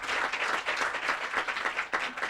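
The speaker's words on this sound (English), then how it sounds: "we do have to give a very clapping hand to Surya and all of you" An audience at a community gathering breaks into sustained applause: loud, continuous clapping with small surges and dips in intensity, no voices standing out.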